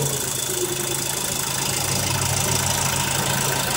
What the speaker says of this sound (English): that's the AC kicking on. You see, it's really loud